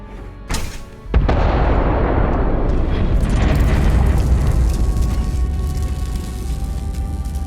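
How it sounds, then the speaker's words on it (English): Underground particle detonation in the video game Starfield: a sharp onset followed by a loud, sustained rumbling roar that holds for several seconds, with no speech. "Prepare for today's final subterranean particle detonation."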